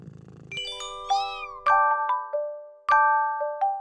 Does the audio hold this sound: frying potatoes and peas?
no